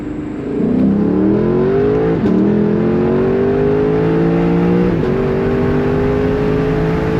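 A 2022 Lexus LC500 engine revs up loudly and steadily on a backroad, pitch climbing as it accelerates, with a quick shift partway through and continuing strong.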